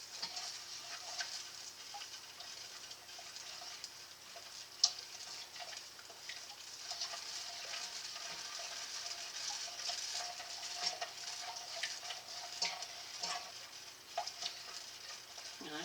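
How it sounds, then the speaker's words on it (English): Sugar mixture for no-bake blondies bubbling and sizzling in a saucepan over medium-high heat, a steady faint crackle with scattered small pops throughout, no talking. "Gotta make sure it's like bubbling on top."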